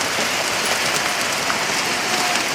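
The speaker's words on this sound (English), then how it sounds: "Had a hailstorm this afternoon." Steady hail pelting down in an afternoon hailstorm on a farm yard by an oak tree, a thick unbroken clatter of tiny hits at constant loudness.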